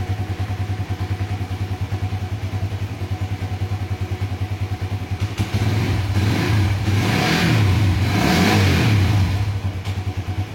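A motorcycle fitted with an Aracer aftermarket ECU idles close by with a fast, even thumping pulse, then the engine note rises and thickens for a few seconds before settling back to idle.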